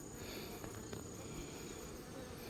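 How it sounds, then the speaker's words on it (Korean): Swarm of Korean native honeybees at an apiary in Wando, a steady, faint, continuous buzzing hum with no talk. "꿀벌 되게 귀엽죠?"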